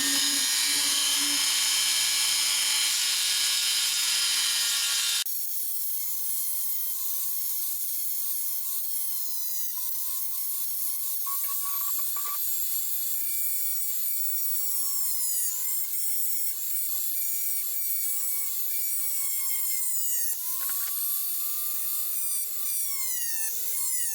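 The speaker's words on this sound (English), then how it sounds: "You probably wonder why I do that with the Dremel" A Dremel rotary tool drills out tiny rivets on a Hot Wheels Sweet 16 Firebird die-cast car, a sharp high whine that shifts pitch as the bit bites into the metal, loud and close, running continuously alone.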